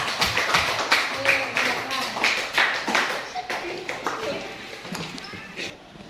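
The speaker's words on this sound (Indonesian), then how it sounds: "Kita berikan aplaus untuk kelompok 1 ya." Schoolchildren in a sixth-grade classroom applaud for a class group, a burst of brisk hand claps that fades toward the end while voices talk over it.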